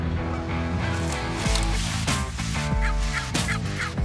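Wild turkeys gobble during a hunt in Ontario or Quebec: loud, rattling gobbles repeat several times over a dense, tonal backdrop that may be music.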